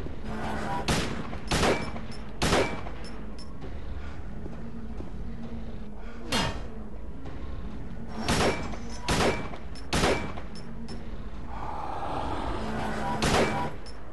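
Gunfire in the horror game Silent Hill 2: about ten sharp, loud shots at irregular intervals over a low, steady background drone.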